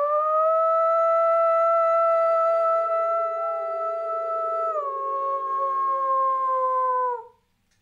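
A man imitates a wolf howl with his voice, one long sustained wavering tone that holds steady, dips partway through and then fades out, loud and close with no talking.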